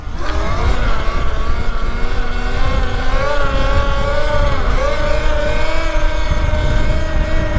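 A Talaria Sting R MX4 electric dirt bike pulls a wheelie outdoors, its motor giving a loud, steady whine that rises and dips slightly in pitch, with heavy wind and road rumble throughout and no talking.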